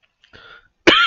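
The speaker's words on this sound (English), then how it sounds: "As I cough." A man coughs close to the mic: a faint throat sound, a short pause, then one loud, sharp cough at the end.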